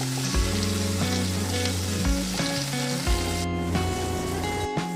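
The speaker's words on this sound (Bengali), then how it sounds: "পেঁয়াজ আর টমেটোটা দেওয়ার পর আমি এটাকে ভালো করে এখন একটু ভেজে দেবো" Chopped onion and tomato fry in hot oil for a prawn masala, giving a continuous even sizzle that runs steadily for several seconds beneath prominent background music.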